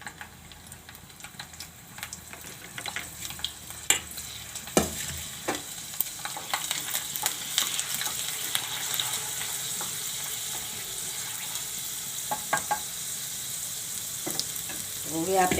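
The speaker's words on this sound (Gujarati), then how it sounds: "તેલ ગરમ થઈ ગયું છે, તો આપણે લસણ નાખી દેવું અને આપણે વઘાવણી નાખી દેવું" Garlic and tempering spices sizzle in hot oil for mula ni bhaji, a soft, steady crackle with scattered pops and the clicks of a stirring spoon, growing louder and busier toward the end.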